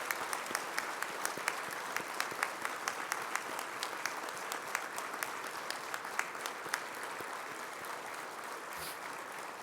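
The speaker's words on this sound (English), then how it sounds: "I really just want to give the survivors and the families that are here today a big round of applause" Guests at a welcome dinner give survivors and families a sustained round of applause, even fairly distant clapping continuing without talk for nearly ten seconds.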